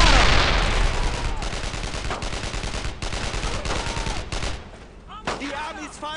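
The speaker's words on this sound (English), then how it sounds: "The army's firing!" Sustained gunfire from the Brothers in Arms: Road to Hill 30 video game, in dense rapid bursts of machine-gun and rifle fire that stay loud and close throughout with brief pauses, under faint battle shouting.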